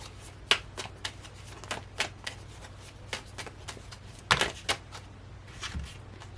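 Tarot cards are shuffled by hand in a string of sharp, papery riffles and slaps, irregular in rhythm, close and fairly loud against a quiet room hum.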